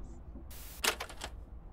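Keys clack in a short burst of about five quick, crisp taps in a video game, preceded by a brief hiss, set against a quiet background.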